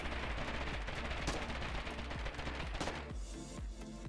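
Rapid rifle gunfire in a video game, dense bursts of shots layered with booming impacts and explosions, loud and continuous throughout.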